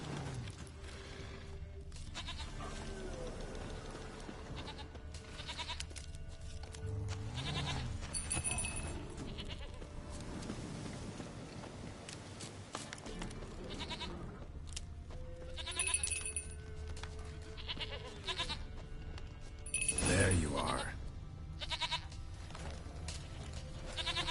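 A goat in The Witcher 3 video game gives a few faint, scattered bleats over a low game ambience, with no talk.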